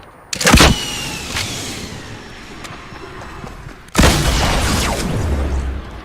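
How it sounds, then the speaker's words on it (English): Rocket-propelled grenade fired point blank in Fortnite Battle Royale: a sharp, loud launch blast, a lull with faint game noise, then a second heavy boom with a long rumbling decay. "I can't believe I just point blank RPG'd that kid."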